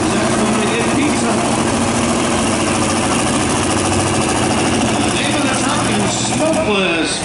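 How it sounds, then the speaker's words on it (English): A modified 2005 Chevy Silverado pulling truck with a big engine idles at a county fair truck pull, a loud, continuous rough rumble with uneven throbbing, mixed with a voice over an announcer-style background. "2005 Chevy Silverado body with a whole lot of motor."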